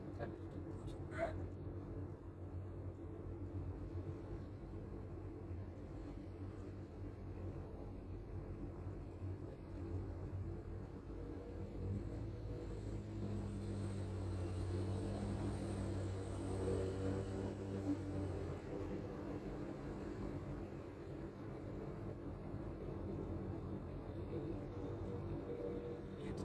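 A Daihatsu Sigra car gives off a steady low road rumble and tire roar from inside the cabin while driving, with a broad whir that swells in the middle, under a voice talking.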